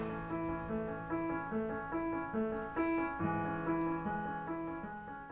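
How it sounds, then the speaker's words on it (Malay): Electronic keyboard playing a steady sequence of sustained chords and notes, loud and alone, during an introduction to percussion and band instruments. "keyboard,"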